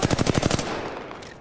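Video game gunfire in a squad shooter, a fast loud automatic burst of about ten evenly spaced shots that stops abruptly and rings out into a fading tail.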